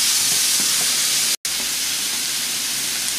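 Rib eye steaks and pork loin sizzling in a cast iron pan, a steady loud hiss and crackle of frying that runs on continuously, broken once by a very short gap.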